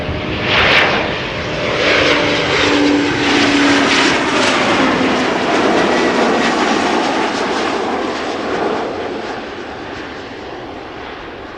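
An Embraer 190 airliner arriving at Amsterdam Schiphol passes close and loud, a broad roaring engine rush that swells early and then slowly fades while staying strong throughout.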